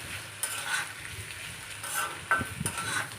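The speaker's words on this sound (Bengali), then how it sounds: "এই তেলের মধ্যে ভালো করে নাড়াচাড়া করে নিতে হবে যাতে লতিটা ভাজা ভাজা হয়ে যায়" Taro stems (kochu loti) fry in oil with a soft sizzle while a spoon scrapes and stirs the pan a few times.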